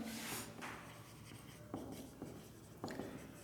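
Faint chalk strokes on a classroom board, a few short taps and scratches spaced out over a quiet room.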